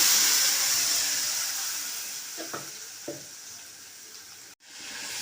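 Spice paste of tomato, chilli and ginger sizzling in hot oil with cumin for lemon fish, a steady frying hiss that fades slowly, with a few soft stirring clicks.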